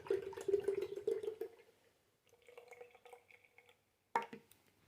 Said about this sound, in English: pour your milk in.